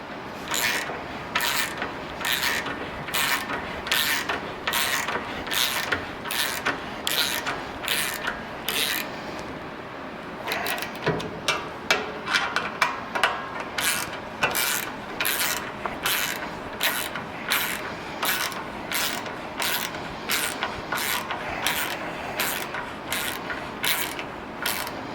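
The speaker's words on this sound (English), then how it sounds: "I'll use a 5mm Allen and a 13mm wrench to crank them down all the way" Roof rack bolts on a Land Cruiser 200 Series being cranked down with a 5mm Allen key while a 13mm wrench holds the nylock nuts, giving steady rapid ratcheting clicks that run through almost the whole stretch, with a brief pause midway and no talking.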